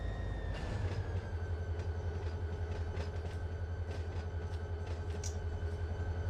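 Freight train locomotives in the Run 8 train simulator game give a steady, close diesel rumble with a faint tonal whine held throughout, with no talking.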